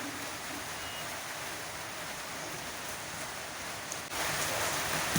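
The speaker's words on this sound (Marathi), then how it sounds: "बाहेर पावसाला सुद्धा यायला सुरुवात झालेली आहे" Steady rain hisses outside, a soft, even wash of noise that grows slightly louder near the end.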